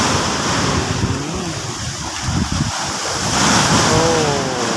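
Sea waves break and wash along the shore at Rayong, a continuous loud roar of surf with wind buffeting the microphone and no speech.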